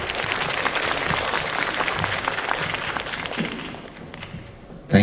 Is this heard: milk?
no